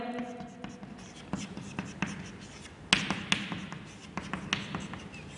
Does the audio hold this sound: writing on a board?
yes